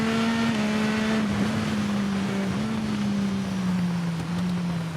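Steady high-revving drone of a supersport racing motorbike in TT Isle of Man 2, loud and close, holding an almost constant pitch with small wobbles for the whole stretch.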